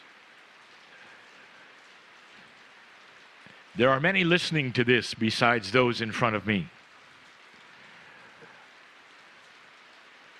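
Steady rain hisses evenly throughout, a soft continuous wash of falling drops at a 2015 Kryon gathering, briefly overlaid by someone speaking in the middle before the rain carries on alone.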